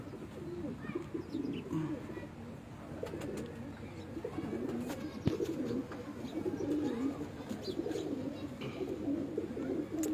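Pigeons of a large-winged breed kept on a rooftop in Multan give low, steady cooing with scattered chirps, close by and continuous, with faint talk now and then in the background.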